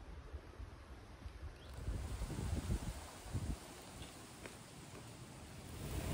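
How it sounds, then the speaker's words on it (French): Strong gusts buffet an unshielded microphone while hiking solo outdoors on the Geneva route to Compostela, a steady roar of wind rumble that swells louder midway and never lets up, with no voices. "J'ose pas trop filmer parce qu'il y a beaucoup de vent"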